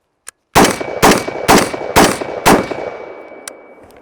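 Five loud rifle shots of Tula bimetal ammunition fired through a SureFire WARCOMP muzzle device, spaced about half a second apart in a steady rhythm, each with a sharp crack and ringing decay, a faint tap just before them.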